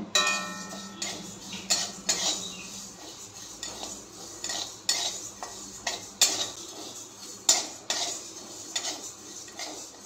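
Black cumin and mustard seeds being dry-roasted in a pan over a low gas flame for green chilli pickle, with steady light clinking and ticking of a metal spoon against the pan and faint popping, no talk.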